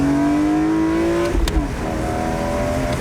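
A flood-salvaged BMW M3 in sport mode accelerating hard, its engine revving up in a rising drone, briefly dipping at a gear change, then pulling again, loud and close from inside the car.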